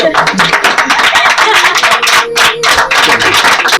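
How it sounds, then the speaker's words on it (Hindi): A Teacher's Day program audience claps loudly and steadily for about four seconds, the dense clapping mixed with lively voices and chatter throughout. "तालियां बजाओ।"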